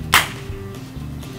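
A toy cap gun fires a paper cap: one sharp, loud crack near the start, then quiet with a faint low hum and no talking.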